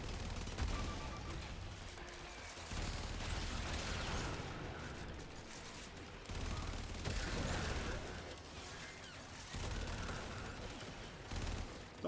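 An AK rifle fires in a video game, rattling out long bursts of fast automatic fire. Brief pauses every few seconds split the dense, continuous shooting.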